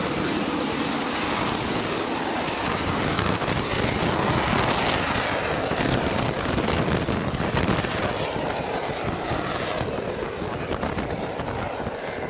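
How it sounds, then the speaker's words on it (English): An AV-8B Harrier jump jet flies past with a broad, steady roar of jet noise, loud and continuous, overlaid with some wind buffeting. "Its ability to take off vertically makes it one of the most maneuverable combat aircraft in service."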